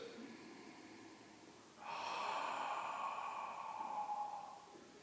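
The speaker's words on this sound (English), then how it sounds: "And if you need to, you can exhale through the mouth." A single long, steady exhale through the mouth during Ujjayi breathing in a fitness session, a close, soft breathy rush that begins partway in and sustains for about three seconds before easing off.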